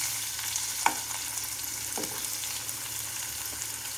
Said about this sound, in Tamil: பெரிய வெங்காயத்தை போட்டுக்கணும், 1/2 kg கட் பண்ணி போட்டுக்கணும்